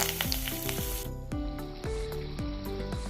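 Fenugreek seeds, chilli pieces and curry leaves sizzle in hot oil for oats upma, a loud, continuous close frying hiss with recurring sweeping tonal sounds layered over it.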